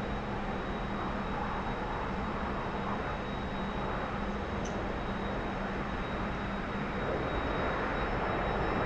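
A T-45 jet engine in the DCS flight simulator roars steadily as the throttle goes up. The broad, even engine noise swells slightly toward the end, with no talking.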